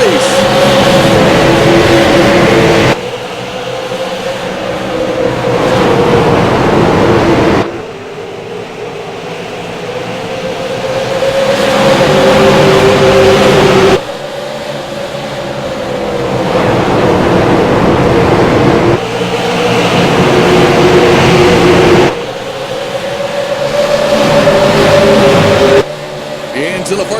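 Race cars at Iowa Speedway accelerate on a green-flag restart, a loud sustained engine roar rising and falling in pitch as the pack passes, with commentary running over it.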